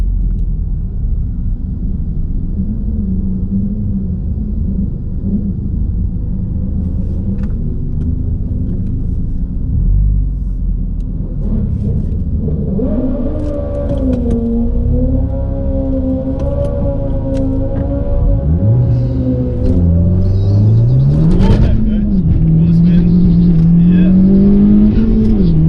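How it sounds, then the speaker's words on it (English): A Honda Civic FK2 Type R does a burnout at Santa Pod Raceway, its engine idling low and rumbling, then revving up through rising and falling pitches. The last stretch brings harder, louder surges close by. "Get a little burnout in."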